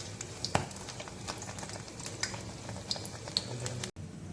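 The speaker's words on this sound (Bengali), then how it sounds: "আর একটা এখানে ভাজা চলছে।" Malpua frying in oil in a home kitchen gives a steady, quiet sizzle with scattered small pops and crackles, heard close and alone.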